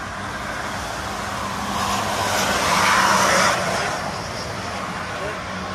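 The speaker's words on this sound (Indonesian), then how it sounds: "Bus Agra Mas." An Agra Mas bus passes along the Trans Java toll road near km 429, a broad steady roar of tyres and engine that swells toward the middle and then eases, with constant traffic noise around it.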